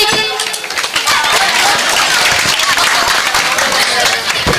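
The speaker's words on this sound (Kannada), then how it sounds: "ಇಂದು ಮೂರ್ಛಕಟ್ಟೆ ಚಪ್ಪಾಳೆ ಮೂಲಕ ಸ್ವಾಗತಿಸಿ" An audience applauds to welcome a guest at a comedy show, with dense, loud, continuous clapping that fills the whole stretch.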